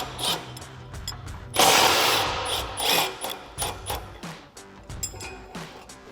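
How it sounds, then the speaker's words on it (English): Metallic ratcheting and clanking from a socket and wrench loosening two 19mm bolts while a Toyota Tacoma trailer hitch is removed, with repeated close, busy bursts of tool noise. "we're going to remove these two 19mm bolts with our 19mm socket and our 19mm wrench"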